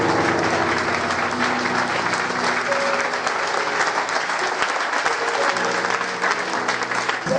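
Congregation applauding during a church worship service, a loud, steady wash of clapping that holds for the whole stretch, with music and faint voices underneath.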